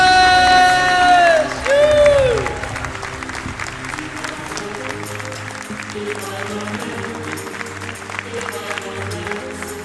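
Audience applause and cheering swell through a large gathering, loud and sustained with shouts and whoops rising above steady clapping, while music plays underneath throughout.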